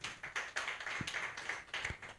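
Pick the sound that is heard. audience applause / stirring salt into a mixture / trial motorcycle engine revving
audience applause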